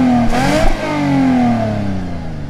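A Lexus GS 300 engine revs up sharply, the pitch climbing then sliding back down as it settles into a steady, loud drone close by, with no talking.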